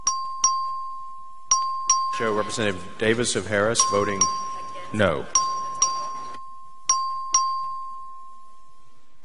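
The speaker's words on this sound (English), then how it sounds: "Clerk, ring the bell." A voting bell rings repeatedly in a state legislative chamber, clear single chimes at regular intervals while a presiding voice announces votes between and over them.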